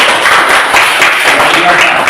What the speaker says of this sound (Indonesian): tepuk tangan kepada teman-teman